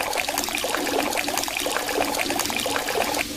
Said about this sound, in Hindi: रोहन के ये बोलते ही पानी फिर से आ जाता है।